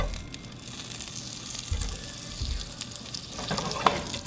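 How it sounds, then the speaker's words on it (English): Onions frying in butter give a gentle sizzle in a pan, a steady soft crackle with faint clinks and stirring noises, close by and fairly quiet. "frying onions in butter is a decision"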